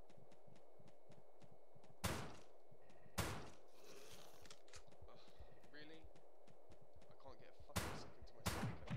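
Shotgun blasts from the top-down shooter game Teleglitch, several loud sharp bangs over a low droning game ambience, with two blasts early on and two more close together near the end.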